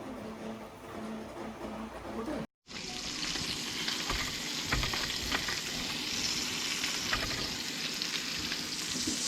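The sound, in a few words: sizzling in pan while cooking duck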